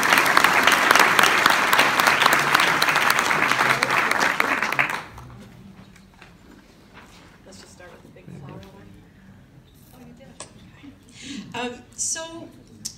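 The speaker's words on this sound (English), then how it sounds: "Can we applaud you?" Dense, loud audience applause at a bee conference fills the first five seconds, then cuts off abruptly, leaving a quiet room with scattered small noises and a few faint voices.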